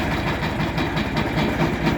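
A low, chugging single-cylinder Shifeng SF-350L tractor engine thrums continuously with a steady rhythmic pulse, loud and close, with no voices.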